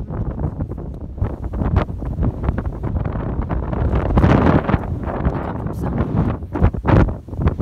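Strong wind buffets the microphone on Lindisfarne, Holy Island, a steady roaring rumble with gusty surges throughout, loud and close with no other sounds standing out.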